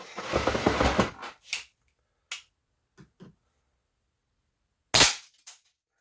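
Sharp crack of a Crosman Nitro .177 air rifle firing, a loud report at the start with decaying ring, followed by a few faint clicks and a second distinct shot near the end.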